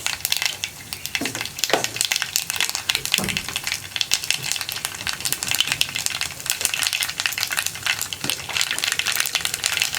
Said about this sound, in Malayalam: കടുകൊന്ന് പൊട്ടി കഴിയുമ്പോൾ